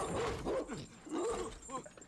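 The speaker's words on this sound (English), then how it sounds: "Dogs barking just stresses me out." A dog barks repeatedly in a scene from Squid Game season 3, a few sharp barks and yips at moderate loudness with voices mixed in.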